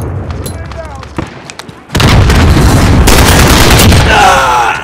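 A planted charge detonates in Call of Duty Modern Warfare, a loud close blast that hits suddenly partway through and rolls on as a sustained roar, with scattered gunfire and game voice lines around it.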